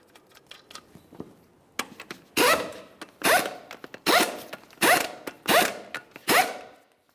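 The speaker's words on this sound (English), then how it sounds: "We'll start on all 6 of our 19mm lug nuts, snug them up" An impact or ratchet tool snugs up the 19mm lug nuts on a front wheel of a 2002-2009 Chevrolet Trailblazer: a few light clicks, then six loud, evenly spaced mechanical bursts close by, each roughly half a second long.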